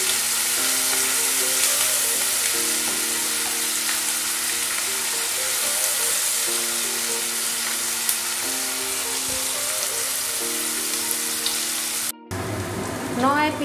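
Onions fry in a pan for a chicken curry with taro root, a steady close broadband sizzle running the whole time with faint stirring and a brief clatter near the end.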